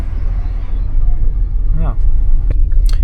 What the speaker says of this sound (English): I'm driving through Maseru